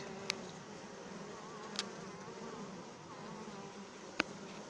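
Soft, steady buzzing from many honeybees around a hive frame with queen cells hums continuously, with a few sharp clicks standing out against the drone.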